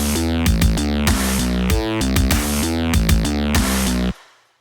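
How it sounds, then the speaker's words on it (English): A synthesized cyber bass dubstep sound made in Reason plays alone and loud: a series of choppy, harmonically rich bass stabs and wobbles in a syncopated rhythm, then a sudden cutoff into a brief fading tail. "The cyber bass sounds like this."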